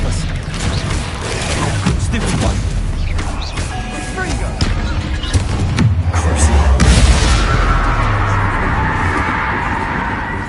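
Confringo spell explosions in the video game Hogwarts Legacy, a dense run of loud booms and crashing blasts layered over continuous rumbling game effects.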